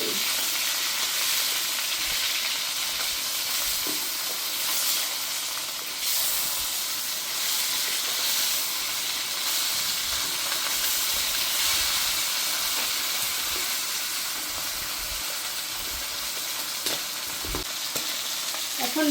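Mustard-coated tapsi river fish crackling in hot oil in a wok after being turned over, a continuous close hissing sizzle with occasional utensil knocks and no voices.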